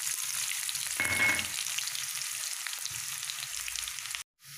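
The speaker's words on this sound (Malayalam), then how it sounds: "എണ്ണ ചൂടായി കഴിഞ്ഞു. അതിലേക്ക് ചെറിയ ഉള്ളി ഒരു 4-5 എണ്ണം അരിഞ്ഞു വച്ചിരിക്കുന്നതാണിത്." Four or five chopped small onions frying in hot oil for an egg curry, a steady close sizzle with a brief louder burst early on, then a sudden cut near the end.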